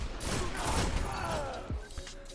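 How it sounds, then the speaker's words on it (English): Hand cannon fire in the video game Destiny, a dense burst of heavy in-game shots and thuds running throughout, loud and close, with a couple of sharper blasts near the end. "Damn, the range on this hand cannon."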